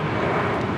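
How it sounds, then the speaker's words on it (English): An American Airlines A321 airliner departing for Boston gives a brief, loud, dense jet engine roar with no break and no speech. "American 2110 departing to Boston on the A321"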